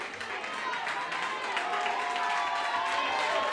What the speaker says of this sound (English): So the crowd's fired up now.